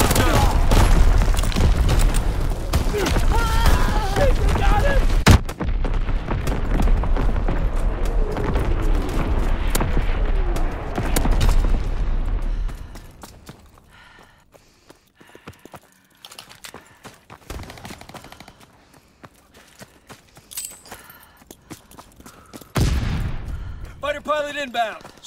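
An artillery battery fires in a video game: deep booms and rapid gunfire bursts mixed with game effects, loud for the first half. Later come sparse clicks and quieter impacts, with a heavy burst near the end.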